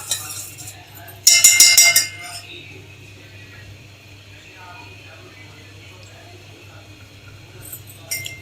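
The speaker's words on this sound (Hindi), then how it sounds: "इसको हम पकाएंगे, साथ साथ चम्मच चलाते रहना वरना ये नीचे से जलने लग जाती है" A spoon clinks and scrapes briefly in a pot of milk, cocoa powder and sugar, with a loud burst of metallic clatter early on and another at the end, separated by quiet background hum.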